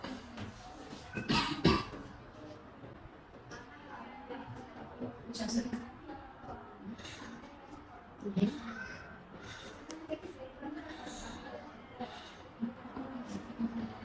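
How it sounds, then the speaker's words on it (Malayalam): A person sick with fever, cough and suspected pneumonia coughs a few times, sharp bursts mixed in with conversation and some crow caws in the background. "നല്ല ചുമക്കുന്നുണ്ടല്ലോ"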